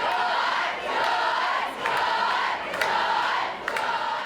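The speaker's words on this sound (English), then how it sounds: "There is a crazy, excited crowd out there." Excited crowd of fans cheering and screaming before a Troye Sivan concert, a loud sustained roar of high-pitched shrieks rising in waves with brief dips, no distinct speech.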